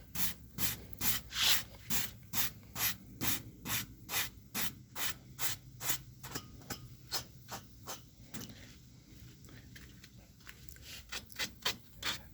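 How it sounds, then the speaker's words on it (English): Small sanding block rubbed over painted side trim on a 1978 Chevy C10 pickup, a quiet, rhythmic series of close rasping back-and-forth strokes heard alone. "I got this little sanding block. I'm just kind of going over it"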